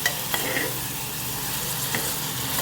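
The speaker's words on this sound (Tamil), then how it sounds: "இது கூடயே நம்ம கருவேப்பிலை, புதினா, ஆட் பண்ணி நல்லா வதக்கிக்கோங்க." Curry leaves and mint sautéing in a pan for carrot beans biryani, a dense steady sizzle with a few faint clicks of stirring, close and even.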